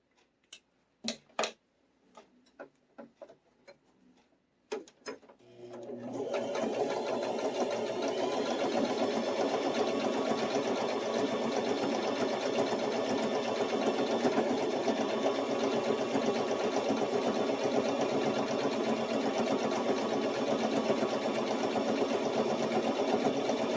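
A sewing machine stitches along marked lines on a fabric bowl cozy. A few sharp clicks and taps come first, then the motor runs in a steady, close whir for the rest of the clip, with no talking.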